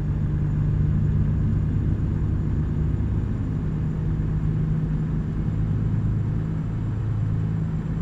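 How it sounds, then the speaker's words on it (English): Engine braking on a Volvo VNL truck in American Truck Simulator, a steady low droning rumble that holds at an even loudness the whole time, with no talk over it. "Biarkan engine brake yang bermain, guys."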